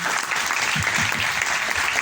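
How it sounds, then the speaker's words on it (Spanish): An audience at a conference on the 2030 Agenda claps warmly to welcome a speaker, a dense, sustained round of applause with a few low murmurs beneath it. "les pido un caluroso aplauso para recibir al maestro Erwin Medina"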